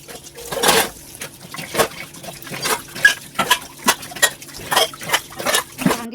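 Dishes, pots and pans being washed and stacked in a home kitchen, with running water and a rhythmic series of clinks and knocks, several per second, close and moderately loud.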